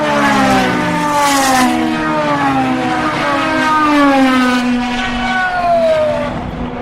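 Race cars, including a V12 Aston Martin 009, scream past at speed, loud and close, their engine notes dropping in pitch as they go by and overlapping one after another.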